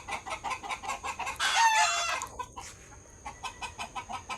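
Rapid rhythmic clucking from nearby chickens, interrupted by a loud, close rooster crow, then the clucking resumes.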